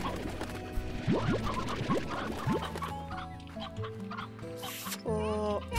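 Chickens cluck repeatedly in the Slime Rancher farming game, a busy overlapping chorus of short clucks and squawks with bursts of other game sounds, and no one talking.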